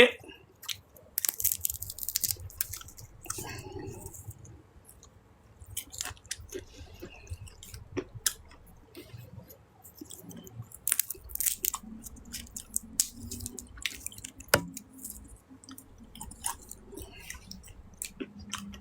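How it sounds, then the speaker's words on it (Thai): Peanuts are chewed close to the mouth, giving soft irregular crunches and wet squishy bites that come and go over a quiet background, with no speech. "ถั่วอร่อยมาก กินถั่วกินกาแฟ"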